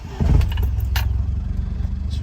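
A 1275cc rally-inspired Mini, stone cold straight out of a barn, is started up. A short clattering crank catches into a loud, lumpy idle with a rapid pulsing throb. A small metallic jingle sounds partway through.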